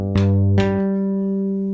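Two quick tapped notes on a bass guitar, the second following half a second after the first, then a low tone that rings on steadily.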